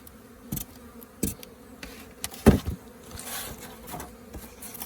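Bees buzzing softly in a steady drone inside a hive being fitted with winter insulation, with a few brief knocks and rustles of handling close by.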